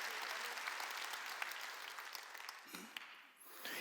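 A church congregation claps hands during a sermon on prayer, a steady dense patter of applause at a distance that dips briefly near the end before resuming.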